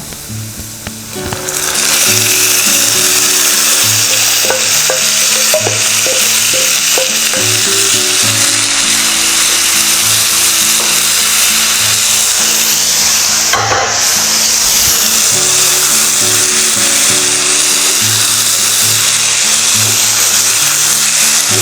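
Mutton coated in masala hits golden fried onions in a hot pan, setting off a loud, steady, continuous sizzle that holds for about twenty seconds with no talk.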